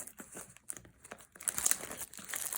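A blade slices through the plastic seal wrap of a Crucible of War card booster box, giving close crinkling and tearing that grows busier and louder toward the end.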